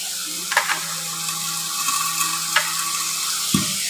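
Tomatoes dropped into leafy greens (bhaji) cooking in a pan, a steady sizzle and frying hiss with a few soft stirring clatters and thuds spaced across the clip, close and alone without talk.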